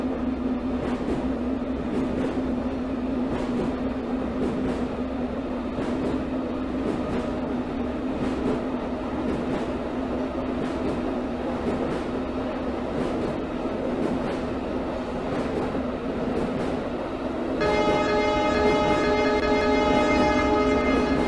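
Moscow metro train running on the central line in Subway Simulator, a continuous loud rumble and hum of motors and wheels with a steady drone, joined near the end by a brighter layered electric whine.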